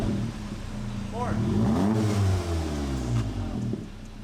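Car with a new REMUS valved exhaust revving up and settling back, a loud, close, deep rumbling engine note rising in pitch, with voices talking over it.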